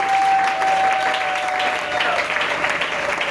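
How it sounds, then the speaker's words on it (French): A church congregation applauds in praise, a dense, close wall of clapping with cheering voices mixed in and a sustained tone running underneath, steady for the whole span. "est-ce que tu peux acclamer le Seigneur?"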